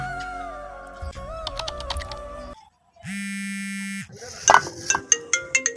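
A mobile phone ringtone plays close by, with electronic melodic tones, then a steady sustained beep, then a bright repeating chime pattern, and no one speaking.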